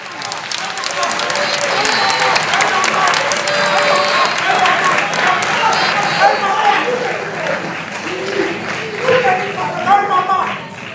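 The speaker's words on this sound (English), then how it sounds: "Just clap for them." An audience at a high school quiz competition quarterfinal applauds the contestants, with dense, loud clapping and some cheering that swells and then tapers, while a voice talks over it.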